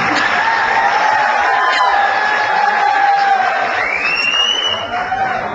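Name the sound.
students clapping and cheering for prize winners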